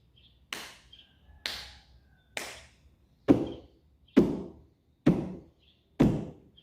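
A teacher knocks out a steady rhythmic beat: seven sharp, crisp knocks evenly spaced about a second apart, close and clear against near silence.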